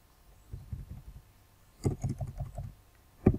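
The ls command being typed on a computer keyboard in a Linux terminal: two short clusters of close, muffled keystrokes separated by a pause, ending with one firmer key press, with no talk over them.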